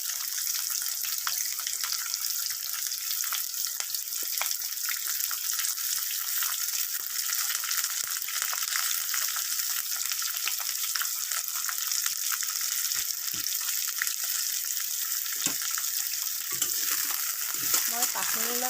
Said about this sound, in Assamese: মই 5 মিনিটমান পিঁয়াজখিনি ভালকৈ ভাজি ল'ম